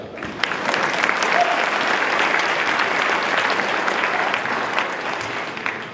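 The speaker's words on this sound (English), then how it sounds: "Round of applause for Rob." Steady, dense applause from a large commencement audience at a college graduation ceremony, loud and sustained throughout with no break.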